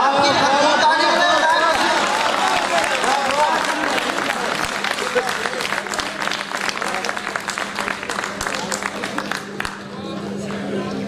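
A crowd at a mushaira poetry gathering in Sialkot bursts into loud applause, heavy clapping that gradually thins into scattered claps and murmuring voices.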